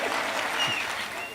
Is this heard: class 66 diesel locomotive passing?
no